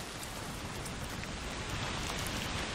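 Steady rain pours in the video game A Plague Tale: Requiem, a dense, continuous hiss of drops falling on surfaces, even and unbroken with no voices over it.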